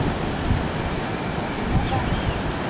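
Sea waves wash onto a beach beside a small-boat channel near Jacaraípe, Brazil, making a continuous broad hiss of surf mixed with wind buffeting. The sound stays steady, with soft surges now and then.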